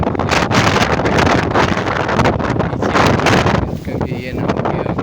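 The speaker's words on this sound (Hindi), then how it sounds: "लेकिन हवा इतनी तेज़ चल रही है।" Strong wind buffets the microphone in heavy, roaring gusts at 205 feet up in Karachi, easing briefly before surging again.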